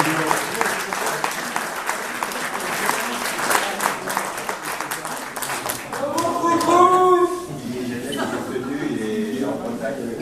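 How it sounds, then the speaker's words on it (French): Audience applause at an athletics club reception, dense clapping for about six seconds before thinning out as voices and laughter rise over the last clapping. "Je crois qu'on peut vous applaudir de nouveau."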